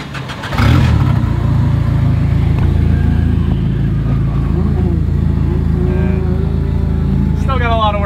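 A Nissan 240SX engine is cranked by a tablet-controlled starter and catches, settling into a loud, steady idle rumble that carries through to the end.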